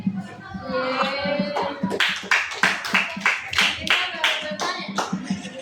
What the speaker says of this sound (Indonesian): Buat tepuk tangan.